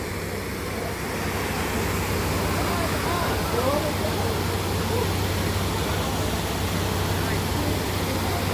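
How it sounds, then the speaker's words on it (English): Steady, loud rush of falling water at Galy Zanta waterfall in the mountains near Erbil, Iraq, a continuous broadband roar with faint voices underneath. "waterfall."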